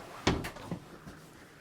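Kitchen cabinet doors in a 2024 Montana Legacy 3901RK rear-kitchen RV are pulled open, giving a few faint soft knocks and a clack in a quiet room.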